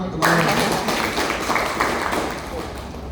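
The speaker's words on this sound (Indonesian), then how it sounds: "Tepuk tangan dulu Pak." An audience applauds at the opening of a national working meeting of madrasah supervisors, a dense, steady wash of clapping that starts abruptly and continues for about three seconds, loud and close.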